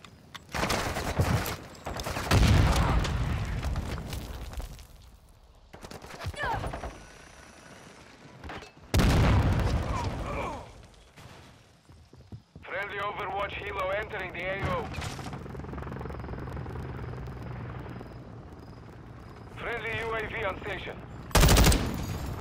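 Bursts of gunfire ring out in Call of Duty Modern Warfare II, with several loud rapid volleys separated by quieter gaps, alongside mechanical game sounds and someone talking.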